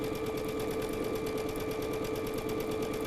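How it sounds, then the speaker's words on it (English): A sewing machine stitches a quarter-inch quilting seam steadily, its rapid mechanical stitching rattle and motor hum close and continuous with no pauses. "we can bring it over to the sewing machine"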